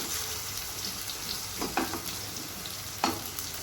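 Spinach bhaji stir-frying in a pan gives a steady soft sizzle with a few sharp spatula scrapes, one near 1.7 seconds and another near 3 seconds, with no voices.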